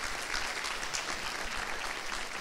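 Steady audience applause at a university Biosciences diploma ceremony, a short dense burst of clapping heard alone without voices.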